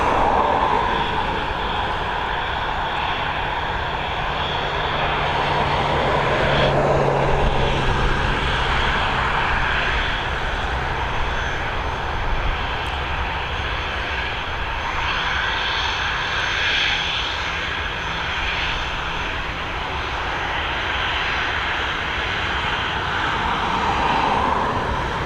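A passenger airplane of the Alicante flight at Dublin Airport produces a loud, sustained engine roar that swells and eases gently throughout, with no voices over it.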